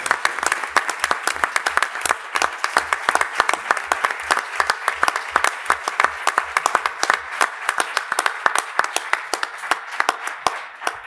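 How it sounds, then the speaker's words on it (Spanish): Audience applause fills a hall at a university inaugural ceremony, a dense sustained crowd of clapping with quick sharp claps running steadily for the whole stretch without talk. "os pido un fuerte y caluroso aplauso"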